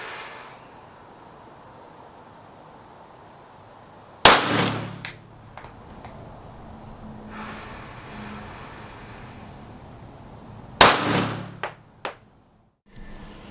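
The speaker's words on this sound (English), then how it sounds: "I'm just going to shoot center of mass" A TISAS PX-9 pistol fired at an IDPA target, two sharp loud reports several seconds apart, each followed by brief echoing clatter, with quiet outdoor ambience between and no talk.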